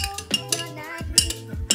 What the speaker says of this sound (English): get your last remaining out with your spoon